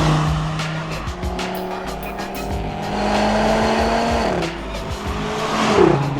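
An Audi RS 3 hot hatch driven hard on the road, its engine note rising and falling through gears with sustained tire squeal, close and loud throughout.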